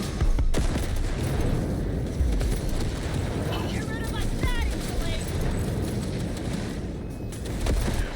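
Automatic turrets firing in the video game Cyberpunk 2077, a dense, continuous clatter of gunfire with booming impacts running the whole time, mixed with game chaos and effects.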